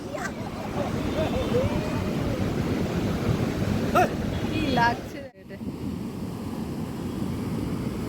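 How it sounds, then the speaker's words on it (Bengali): Sea waves and wind on the beach at Puri form a steady, broad roar of surf with wind buffeting the microphone, while a person talks over it throughout. "এত সুন্দর এই সমুদ্র আর হাওয়া"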